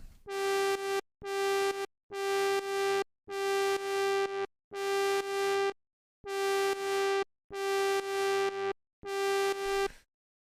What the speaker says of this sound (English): it starts to create like a really nice grit. Almost sounds like a distortion